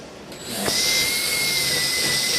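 A power drill bores a hole through tough subwoofer plastic, spinning up after a brief click into a steady close whine that holds to the end.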